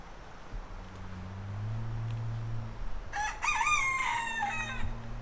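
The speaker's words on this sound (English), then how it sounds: "There's also a rooster." A rooster crows once, fairly near and clear, at Pearl Harbor, Hawaii, over a steady low hum and faint outdoor background noise.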